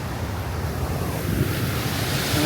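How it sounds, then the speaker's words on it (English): Steady broadband rush of slow-moving creek water at the ruins of the Great Falls Mill, a continuous wash mixed with some wind noise, fairly close, with no voices. "Well, the slow moving creek part here."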